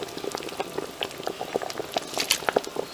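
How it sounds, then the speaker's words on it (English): Ogbono soup bubbling on a stove as okra goes in, a close, busy stream of small popping bubbles and wet plops, moderately loud and without talk. "I'm going to go ahead and add my okra."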